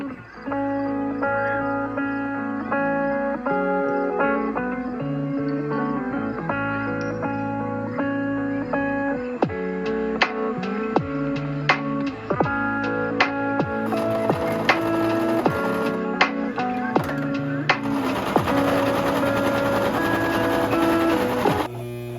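A sewing machine stitching fabric whirs in steady mechanical runs with sharp clicks and knocks, layered over sustained musical tones; the stitching rhythm is moderately loud throughout.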